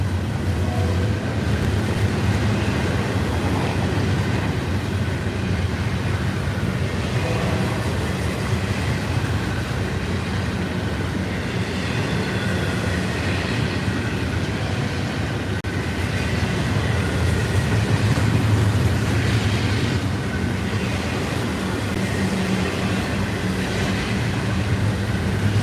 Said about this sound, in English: Here's the garbage train.